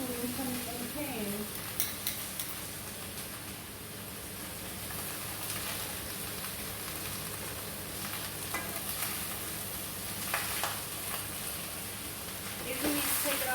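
Cabbage fries in a pan, giving a steady hiss and sizzle with occasional stirring clatter. A voice talks over it at intervals.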